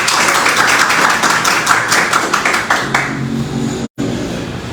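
A church congregation applauds during a Sunday morning service, dense clapping from many hands for about three seconds that thins out before a brief cut.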